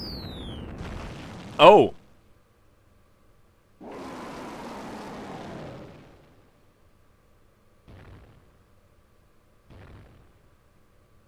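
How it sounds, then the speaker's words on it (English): In the Dragon Quest 5 DS game, a sharp cannon shot cracks out, followed a moment later by a longer rumbling explosion, then two faint short thuds, with no talking over the effects. "Someone fired the main cannon."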